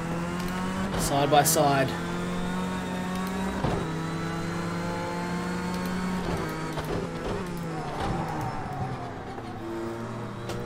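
A big Ford race car engine in Project Cars 2, racing at Daytona, held high and wound out with a steady droning tone, other cars close by, while a commentator talks over it.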